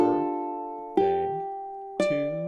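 Ukulele playing three plucked notes or chords of Happy Birthday, evenly spaced about a second apart, each ringing and fading before the next, close and clean with no talking.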